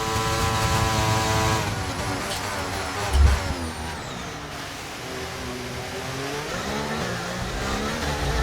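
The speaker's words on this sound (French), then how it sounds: "Ah, sa puissance moteur, hein, ça c'est Ferrari devant." A Ferrari Formula 1 car engine in the F1 23 racing game gives a continuous high-pitched whine that rises and falls through gear changes, loud and close with no talking.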